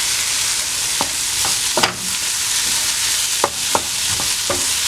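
Cauliflower fried rice stirred in a hot pan, a steady sizzle of frying under a series of distinct scraping strokes of the utensil against the pan, with no talking.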